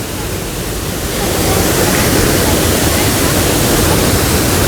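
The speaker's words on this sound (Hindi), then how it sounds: "जैसे कि आप देख सकते हो वाटरफॉल मेरे आगे से गिर रहा है।" Waterfall at Cherrapunji, Meghalaya, heard from behind the falling water as a loud, steady broadband roar that swells after the first second and then holds constant.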